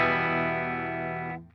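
A single chord rings out on an electric guitar with a clean tone from the bridge pickup through an amp simulator, sustaining evenly before being cut off, alone and close.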